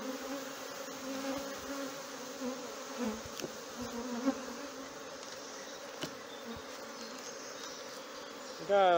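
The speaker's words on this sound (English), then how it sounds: "Got a lot of bees around me right now." Swarming honey bees, agitated by a beekeeper working a hive on a homestead, make a continuous close buzzing with scattered louder passes and faint handling noises.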